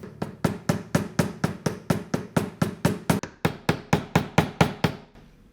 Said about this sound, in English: I moved on to using a mallet